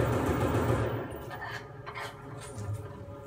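Gunfire in Call of Duty Zombies, a rapid automatic burst that starts loud and tapers off, followed by a few scattered shots and clinks, fairly close.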